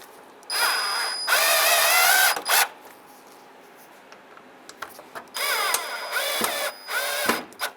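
A power drill runs in two bursts of a few seconds each, tightening the grille mounting screws on a 1992-1996 Ford F-150, with a short blip between them and quiet pauses around.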